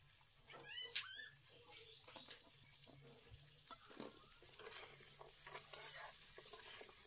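Salted taro pieces frying in oil give a faint, soft sizzle while being stirred, with quiet scraping taps and a brief high squeak early on.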